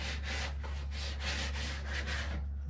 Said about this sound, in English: I'm going to go through and just kind of smooth out my cuts with a piece of sandpaper